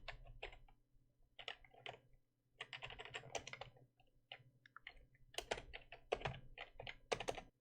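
Close computer keyboard typing in short irregular bursts of clicky keystrokes separated by brief pauses, faint and alone with a low steady hum underneath.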